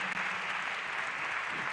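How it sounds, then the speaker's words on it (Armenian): Audience applause at the opening of a national youth conference, steady dense clapping from a crowd, heard alone and fairly close throughout the short stretch. "Եկեք ծափարացնենք շնորհակալություն հայտնենք"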